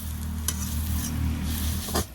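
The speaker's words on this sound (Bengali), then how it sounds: "শুধু তেলে শাকটা ভাজা হবে।" Fresh jute leaf greens stir-fry in plain oil with no salt or turmeric, giving a loud, close, continuous sizzle with a couple of brief scraping stirs and no voices.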